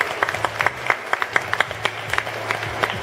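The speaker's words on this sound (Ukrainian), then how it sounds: "Давайте привітаємо їх оплесками." Scattered audience clapping greets guests at a health festival in an arena, separate sharp claps at an uneven pace over a low hum, fairly faint and sparse.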